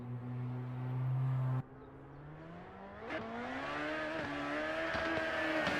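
A Toyota Supra drift car at a Pittsburgh drift competition qualifying run holds a loud, steady high rev, then cuts off abruptly. The engine climbs again through rising revs and gear changes, with a whine running under it.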